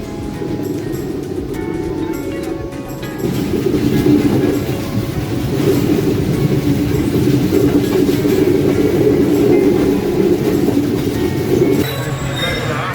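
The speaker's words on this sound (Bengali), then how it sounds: "সান্তাহার থেকে তিতুমির ট্রেনটি নির্ধারিত সময়ের 40 মিনিট পরে ছাড়ল গন্তব্যের দিকে।" Titumir passenger train running on the tracks after leaving Santahar: a loud, continuous rumble and rattle of carriages that swells after a few seconds, with faint squeals near the end.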